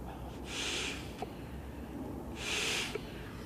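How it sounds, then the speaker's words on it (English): Two soft, breathy rescue breaths blown into a mouth during a CPR demonstration, each lasting about a second, separated by a quiet pause against faint background noise. "We give 2 breaths, cover the mouth completely with our mouth like this."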